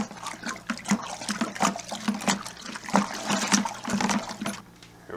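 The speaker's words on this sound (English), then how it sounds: "Open up the valve" Liquid runs from an opened valve into a homebrew fermenter, a continuous close splashing and trickling stream with bubbly pulses, fairly loud and alone without voices.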